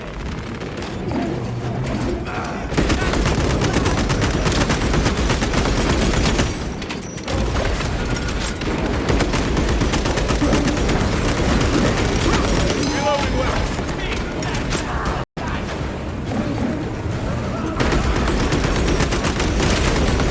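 Heavy, sustained gunfire and explosive booms fill a battle in the video game Warhammer 40,000 Space Marine 2, loud and nearly unbroken with mechanical clatter throughout and voices shouting over the din.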